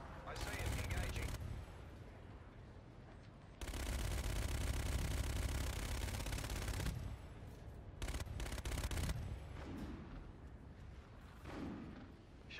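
Bursts of machine gun fire rattle in a military video game, loud sustained volleys broken by short pauses, with one long stretch of continuous firing in the middle.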